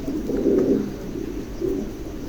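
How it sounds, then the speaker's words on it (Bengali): A pair of big, young pigeons coo in two low, throaty swells, close and unaccompanied, with a faint background hum. "চমৎকার এক জোড়া কবুতর একদম নতুন"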